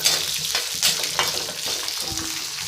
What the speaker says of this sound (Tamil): இதையும் போட்டு நல்லா வதக்கிக்கலாம்.